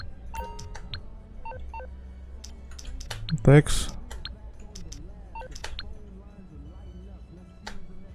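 Phone dialing tones and beeps in the Grand Theft Auto V video game, a short burst of keypad-style blips mixed with game sound effects and clicks, heard under someone talking.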